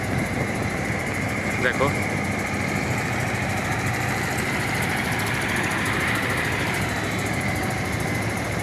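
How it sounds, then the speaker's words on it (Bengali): Steady low engine drone from a trawler boat on the Buriganga river, continuous and moderately loud, with a person talking briefly over it. "লঞ্চও কিন্তু চলে এখানে, ট্রলার। এই ট্রলারগুলো যাচ্ছে"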